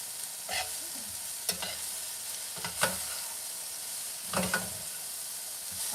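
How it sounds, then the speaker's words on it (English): Shredded cabbage frying on the lowest flame while being stirred in a pan, a soft continuous sizzle broken by several scraping stirs of the spoon, close and fairly quiet with no talking. "Keep stirring my cabbage."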